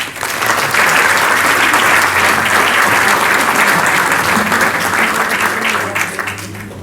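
Strong, dense applause from an audience welcoming a speaker at the LUM, sustained and loud throughout before tapering slightly at the end, with a faint low hum beneath.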